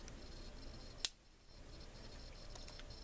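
Orange peeler tool on a MiniChamp pocket knife snaps open with a single crisp click, close and brief, in an otherwise quiet setting.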